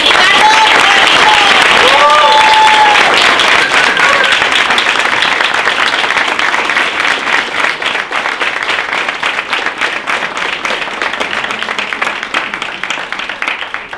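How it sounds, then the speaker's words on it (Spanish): Standing audience gives a loud, sustained round of applause at a live presentation event, dense clapping holding steady for the whole stretch and tapering only slightly toward the end, with a few voices calling out early on. "todo el mundo levantado para darle un fuertísimo aplauso"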